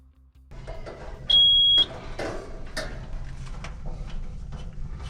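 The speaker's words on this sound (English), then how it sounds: "it has a buzzer, so it will beep when you go ahead and start testing this part" A single sharp electronic beep of a continuity tester checking a Samsung electric dryer that runs but does not heat lasts about half a second amid quiet handling and clicking noises, no speech.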